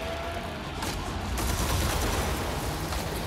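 Gunfire in the Red Faction: Armageddon video game fills the mix as dense, continuous shooting from several directions, a loud, sustained wash of shots and impacts with no voices.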